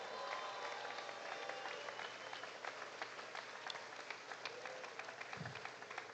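A crowd at the Fancy Farm picnic in Kentucky applauds steadily, with dense clapping that holds at an even level from start to finish and a brief low thump near the end.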